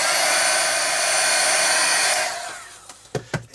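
A hair dryer blows steadily and loudly on wet paint on an artwork for about two seconds, then switches off, leaving a few soft knocks and handling sounds.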